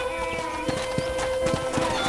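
Horse hooves clip-clop at an easy, steady pace in the Red Dead Redemption video game, with evenly spaced close thuds over a constant background of ranch ambience and a faint whinny.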